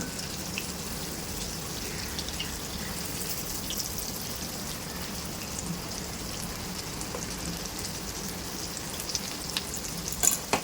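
Vegetable potato cutlets fry in a small amount of oil, giving a steady, dense sizzle with light crackles and a few sharper pops near the end, with no talking.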